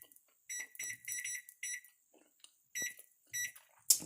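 A kitchen timer is set with a series of short, bright electronic beeps in separate clusters, with pauses between bursts and one sharper beep at the end. The beeps are close and fairly loud, with no talking.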